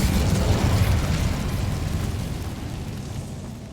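A fire spell cast in the video game Hogwarts Legacy, a loud whooshing, rumbling burst of flame that starts strong and slowly fades over a few seconds, with no voices.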